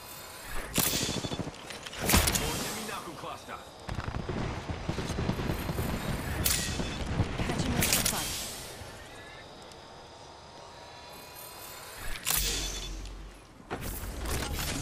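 Scattered gunshots ring out in a shooter video game, several sharp isolated cracks and short bursts spaced apart, with ringing echo trailing after each.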